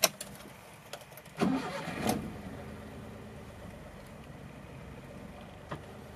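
The small turbo engine of a 1990 Suzuki Every Aero Tune kei truck cranks and catches with a short rising roar, then settles into a quiet, steady idle heard close by, with no talking.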